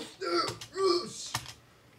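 A few quick bursts of keys tapped on a computer keyboard during a speed-run map game, close and moderately loud, then quiet.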